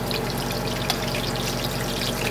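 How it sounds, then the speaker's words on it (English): Low-carb tonkatsu cutlets sizzle in shallow oil in a pan, a steady dense crackle and hiss throughout with one brief sharper pop. "turn those back over and let them fry when we have some of the most oil"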